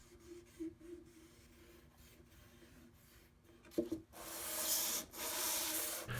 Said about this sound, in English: I wasn't trying to sand down the surface, but more to tell how the flattening was progressing